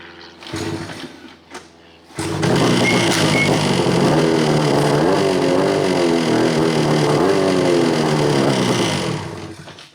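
A pull-start engine on a homemade jet engine setup fires up after a couple of pulls, then runs loud and steady with revving, preceded by brief quieter rattles and a pause.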